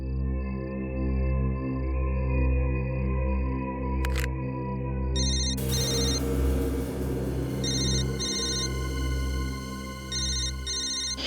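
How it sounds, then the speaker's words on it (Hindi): A telephone rings in repeated electronic trills against a sustained, droning musical background. Short patterned bursts of ringing recur every second or two and sit clearly above the music. "उस तरफ से आवाज आ रही है फोन की"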